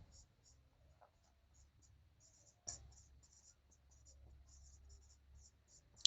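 A pen scratches out an answer on a paper maths worksheet in quick, light, rhythmic strokes, with a soft voice faintly underneath.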